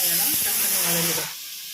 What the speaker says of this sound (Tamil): அப்போ சீக்கிரம் அது வெங்காயம் டக்குனு வதங்கிடும்